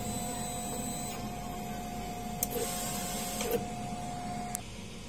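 A DTF printer hums steadily at close range while printing a nozzle check, with a constant tonal whine and a few short clicks and carriage sounds along the way.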